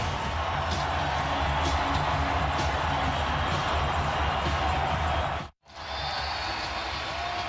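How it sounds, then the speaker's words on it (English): An arena crowd at an NBA playoff game between the Utah Jazz and Houston Rockets roars in a steady, loud wash of cheering that cuts out abruptly near the end and then resumes. "this crowd finally has something to cheer about"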